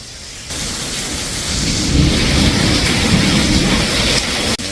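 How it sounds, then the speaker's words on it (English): Thunder rolls in a long, loud, deep rumble through a lightning storm, with steady rain pouring throughout and a sharp crack near the end. "lightning is striking all around us"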